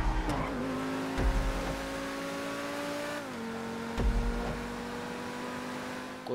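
Race cars roar around Los Santos airport in GTA V, a steady loud engine drone with smooth pitch shifts as gears change and brief thuds near the start and around four seconds, no talking.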